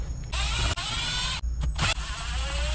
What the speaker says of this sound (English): Now it looks like we have 4 T20 Torx screws that we're going to take out.